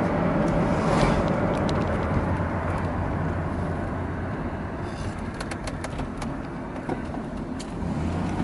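Low-mileage Chevrolet Astro minivan rolling around a curve, a steady broadband engine and road drone heard from inside the cabin, with faint clicks and rattles scattered throughout.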